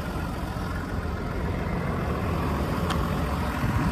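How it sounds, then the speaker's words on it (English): A 2018 Ford F-150 diesel pickup truck idles steadily with a low, even rumble, close and continuous with no talking. "So you can hear the motor."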